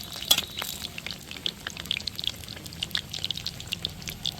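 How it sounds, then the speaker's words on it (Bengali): Moglai paratha fries gently in moderately hot oil, giving a soft bubbling sizzle with scattered sharp pops and spits that come irregularly, close and quiet, with no talking. "আস্তে করে তেলে দিয়ে দিব তেলটা হালকা গরম হয়ে গেছে"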